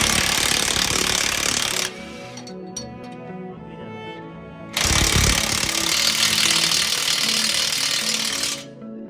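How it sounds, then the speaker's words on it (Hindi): A pneumatic impact wrench hammers on the axle bolts of a TATA 2830 tipper truck, two long loud bursts of rapid rattling separated by a quieter pause with a few clanks, close to the work. "बोल्ट वगैरह खींच रहे हैं इसके, लगाइए जब टाइट करिए"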